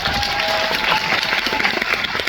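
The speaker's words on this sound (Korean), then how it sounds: "박수 한번" Audience applause at a Korean film guest-visit screening Q&A, a dense steady wash of clapping from a full hall that holds at even loudness throughout without a break.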